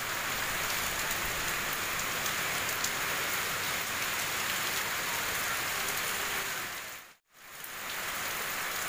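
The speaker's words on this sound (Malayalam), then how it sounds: "നല്ല ശക്തിയിൽ കാറ്റും നല്ല ശക്തിയിൽ മഴയും പെയ്യുന്നുണ്ട്." Heavy rain with strong wind pours down outside a home in a dense, steady hiss, loud and close. It breaks off briefly near the end, then resumes, with no voices.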